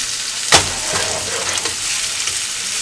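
Chicken penne cooking in olive oil in a pan, a constant close sizzle with a clink of utensil near the start and soft stirring afterward.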